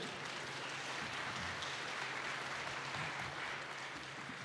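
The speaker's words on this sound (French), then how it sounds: "Vous pouvez les applaudir." Steady applause from an audience at a logistics trade conference session, a dense even wash of clapping that holds at constant level for several seconds with no voices over it.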